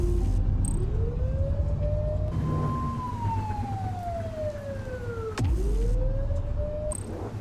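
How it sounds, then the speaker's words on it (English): A police siren wails in The Precinct video game, its pitch rising, sweeping slowly down, then rising again over a low engine rumble, loud and close. "What does a random siren mean?"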